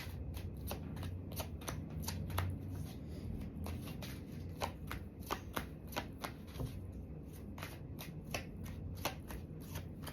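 Tarot cards being shuffled, a rapid run of crisp riffling snaps and flutters at close range, repeating steadily for the whole stretch over a faint low room hum, with no talking.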